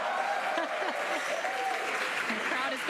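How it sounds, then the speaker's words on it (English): A crowd claps and cheers steadily at a SpaceX Crew-10 launch, dense continuous applause with whoops, partly under a broadcast commentator's voice. "the crowd is going wild."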